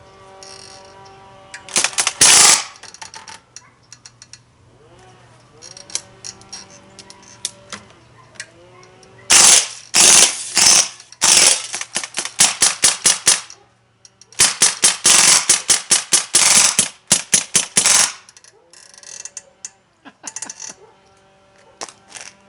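Two Umarex airguns, a Steel Force and an E.B.O.S., fire full auto in rapid rattling bursts of sharp cracks, several strings separated by pauses and scattered single shots, loud and close.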